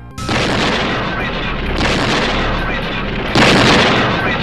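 A homemade explosive charge blows up an ATM in Gansu, rendered as a loud explosion effect: three heavy blasts, each followed by a long roaring rumble that blends into the next.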